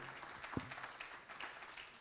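Faint applause from a forum audience, soft steady clapping heard at a distance.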